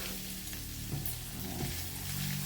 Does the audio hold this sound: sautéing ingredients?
yes